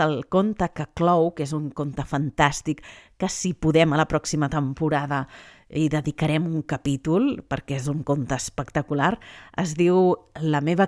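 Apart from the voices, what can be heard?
No distinct noise like a dog, phone or traffic.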